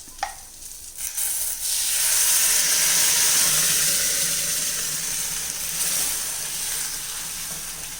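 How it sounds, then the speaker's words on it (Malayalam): Cooked dal curry poured onto wilted drumstick leaves in a hot pan, a brief clatter followed by a broad hissing sizzle and bubbling that swells and then holds steady, with no voices. "ഇതിലേക്ക് നമുക്ക് കുക്ക് ചെയ്ത് വെച്ചിരിക്കുന്ന ദാൽ കറി ഒഴിച്ചു കൊടുക്കാം"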